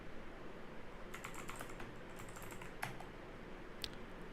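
A command being typed on a computer keyboard in Ubuntu, quick bursts of light key clicks with brief pauses and a couple of sharper single taps, close and soft.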